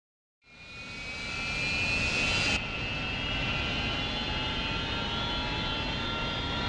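Harrier jet engines spool up in a flight simulator game, a rising whine with a high-pitched tone that settles into a loud, continuous roar.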